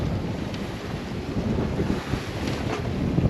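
Steady wind buffets the microphone while waves wash and slap against a boat at sea, a constant rough roar with no voices.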